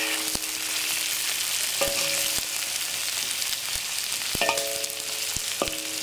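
Garlic, red chili and fried bitter melon stir-frying in a wok with hot oil, giving a loud, continuous, hissing sizzle and a few sharp metallic clanks of the spatula against the wok.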